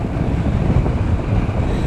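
Strong headwind buffets the microphone while cycling on a hilly road, a loud, continuous low roar with uneven gusts and no voices.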